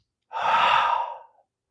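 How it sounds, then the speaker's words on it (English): A single long exhale through the mouth in pranayama breathing, a soft breathy sigh lasting about a second, close and clear with no talking. "So it's going to be 2 inhales through the nose and 1 exhale through the mouth."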